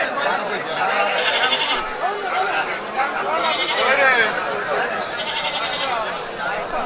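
Native goats bleat repeatedly at a crowded livestock market held for Eid al-Adha sacrifice, several animals calling loudly over constant crowd chatter and nearby talk.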